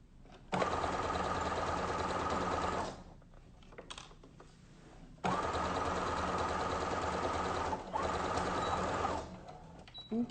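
A sewing machine hems the cotton inner layer of a face mask in two long, steady runs of rapid stitching, separated by a short pause with faint handling noises and followed by a final brief burst.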